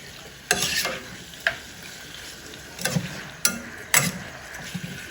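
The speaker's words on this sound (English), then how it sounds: "Look, it sizzles a little" Chicken pieces frying in a pot, a soft, steady sizzle with a few sharper crackles and clinks from stirring spread through the clip, fairly quiet and close.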